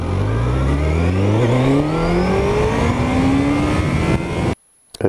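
A motorcycle accelerates hard in first gear, its engine note climbing steeply in pitch as revs rise. The motor is loud and close, revs back down briefly and climbs again, then cuts off abruptly near the end.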